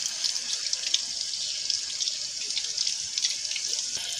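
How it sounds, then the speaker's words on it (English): Cold tap water runs steadily into a sink while collected outdoor objects are carefully washed, a continuous close hiss of flowing water with faint drips and no talking. "I'm gonna wash them with cold water carefully"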